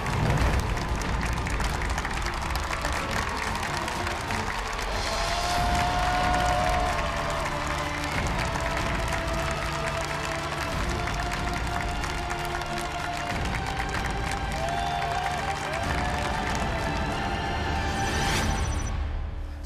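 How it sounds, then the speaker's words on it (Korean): A studio audience at a Korean trot singing competition show applauds and cheers to welcome a singer onstage, a continuous, full crowd clapping sound layered with a music bed and a brief whoosh near the end. "박수로 맞아주세요"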